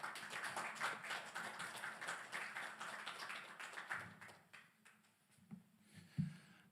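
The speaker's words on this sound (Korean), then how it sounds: "전부 같이 박수로 맞이하시기 바랍니다" Audience clapping in a lecture hall to welcome a pastor arriving as guest speaker, a steady round of applause that fades after about four seconds, leaving a few scattered claps.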